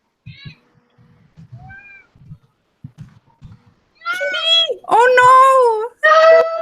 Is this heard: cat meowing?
yes